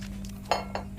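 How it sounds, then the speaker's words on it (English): A water bottle flipped in the video game I Am Cat lands with a short glassy clink, then a second lighter knock, both brief and close over a steady low game hum. "Water bottle flip!"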